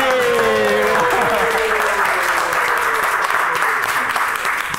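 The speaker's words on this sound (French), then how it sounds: "Et le professeur Abdoulaye Sarro, qu'on applaudit." Steady audience applause during a televised French talk show, dense and continuous, with a voice briefly heard over it at the start.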